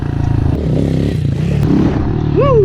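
A Honda CRF110F pit bike engine while riding, a loud close rhythmic thrum with a rising pitch near the end as the throttle opens.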